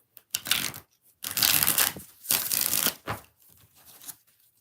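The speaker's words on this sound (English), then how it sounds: "Last shuffle." Tarot cards shuffled in several close, crisp riffling bursts with short pauses between them, ending in softer card taps and handling noise.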